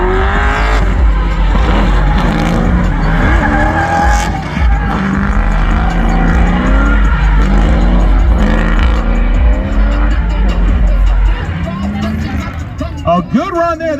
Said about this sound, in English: the drifting is done now